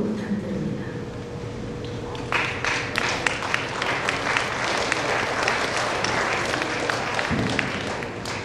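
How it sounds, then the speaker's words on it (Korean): An audience at a 105th-anniversary commemoration applauds before a combined choir performs, giving a loud, sustained wash of clapping from many hands with a few sharper individual claps standing out. "큰 박수 부탁드립니다."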